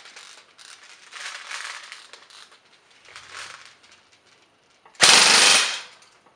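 An electric airsoft gun, a JG Mag K on an 11.1 volt LiPo, fires a short full-auto burst through a chronograph, a loud, close rapid rattle lasting under a second after quieter mechanical handling noises.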